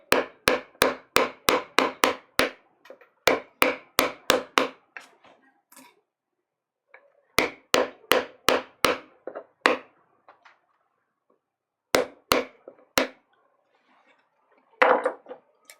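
Bursts of rapid sharp tapping as a mallet drives a 15 millimeter chisel carving a Japanese woodblock for printmaking, quick clusters of dry wooden knocks separated by short pauses, close and alone.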